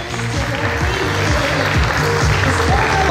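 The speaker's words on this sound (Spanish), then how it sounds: "Fuerte el aplauso para él." Loud, sustained applause fills the hall from the audience at a men's beach model class of a bodybuilding open in Rivera, Uruguay, with a dense steady clatter of clapping throughout.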